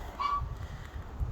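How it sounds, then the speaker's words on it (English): Geese and turkeys kept inside a greenhouse on a homestead after a windstorm give a single short honking call, faint against a low background rumble. "The geese and turkeys are just happy inside that greenhouse."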